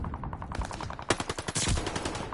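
Rapid automatic gunfire in the Call of Duty Vanguard alpha, a fast stuttering string of sharp shots that thickens into a louder dense burst near the end, with no voice over it.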